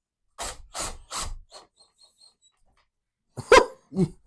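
A hunting dog barks three times in quick succession, then lets out a short yelp, and after a pause barks twice more, close and sharp in a quiet outdoor setting.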